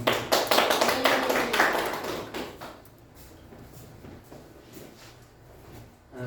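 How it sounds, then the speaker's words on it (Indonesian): Classmates in a school lesson clap hands in a short burst of quick, sharp claps that fade out after a couple of seconds, leaving a quiet room with faint stray taps. "Beri tepuk tangan untuk teman-teman."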